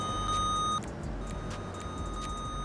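A radar gun mod in GTA 5 police patrol gameplay emits a steady, loud electronic beep tone that cuts off abruptly, followed by faint repeated chirps over a constant engine-like drone.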